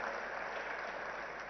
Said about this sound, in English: I think he deserves a big, big round of applause